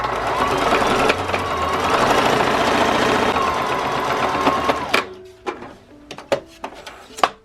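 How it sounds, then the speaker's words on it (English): Sewing machine runs a continuous top stitch along a fabric stocking stuffer for about five seconds, a close rapid mechanical whir, then stops, followed by a few sharp clicks and knocks. "just sew a top stitch all the way from the beginning to the end"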